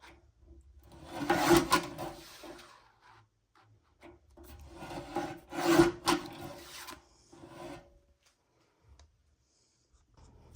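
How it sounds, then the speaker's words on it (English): A stack of craft paper being trimmed for tags, heard as two bursts of rough rasping and rubbing that rise and fade, with quieter scraping between them and a near silence at the end. "we have our beautiful stack that we have just trimmed up"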